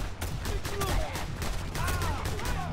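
Bursts of rapid gunfire from Just Cause 2 combat, fairly quiet and steady: several crackling volleys of shots follow one another over a few seconds.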